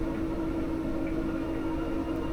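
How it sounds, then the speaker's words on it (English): Stock CPU cooler fan in a desktop computer, a loud, steady whirring drone with a constant tonal hum and broadband airy noise throughout, close and alone. "if you're hearing that noise coming out of your computer, chances are you have a stock cooler cooling your CPU"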